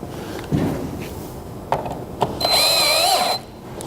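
A power drill drives a screw into the back of an Adirondack chair during assembly: a single clear whir of about one second, close and fairly loud, following a few light knocks and handling taps.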